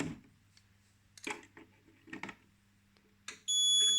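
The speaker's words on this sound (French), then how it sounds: "Le buzzer, il sonne encore." Quiet clicks and small handling noises over a faint hum, then a loud electronic alarm buzzer on a Nugelec panel starts abruptly and keeps sounding steadily.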